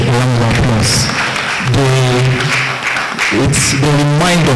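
A crowd at a palm wine conference applauds the Kegite club, loud clapping blended with voices calling and chanting throughout.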